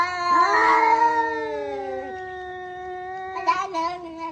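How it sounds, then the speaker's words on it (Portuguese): Cats caterwauling outdoors, a long, rising and falling yowl that holds for about two seconds, then a shorter burst of wailing near the end, loud and close with no talk. "já lá fora tá uns gatos gritando"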